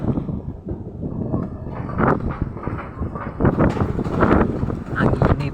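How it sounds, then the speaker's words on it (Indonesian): Strong wind gusts outdoors while river fishing for wader, rumbling and buffeting close to the microphone in rising and falling surges, with no talking. "Angin banter, bro."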